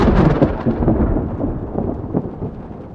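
Thunderstorm thunder rolling in a deep, loud rumble that starts strong and slowly fades over a few seconds, with faint rain hiss beneath.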